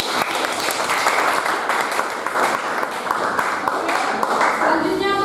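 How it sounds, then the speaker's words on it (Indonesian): A classroom of students claps together for a classmate during a Catholic religious education lesson, a dense, even burst of applause lasting about five seconds, with faint voices mixed in. "Tepuk tangan dulu."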